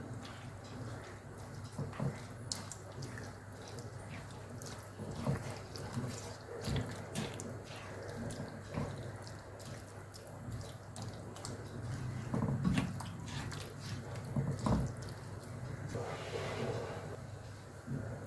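Water runs and splashes steadily into a pan of cooking tomatoes, a continuous trickling wash with occasional clinks, fairly close, with no one talking.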